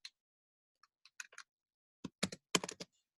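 Typing on a computer keyboard comes as sparse, scattered keystrokes at first, then a quicker cluster of louder clicks, close up in an otherwise quiet room.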